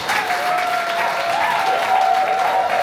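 Guests at a civil wedding ceremony clap after the couple's consent, loud close applause with a thin tonal whine running beneath it, continuous and even for about three seconds.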